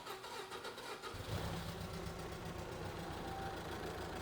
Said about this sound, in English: We'll go ahead and turn her over, get her started up for us.